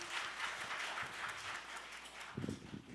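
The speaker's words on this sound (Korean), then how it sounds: "큰 박수 모시겠습니다." An academic conference audience claps softly and steadily in a hall, a faint, even patter that thins out toward the end, heard alone without talk.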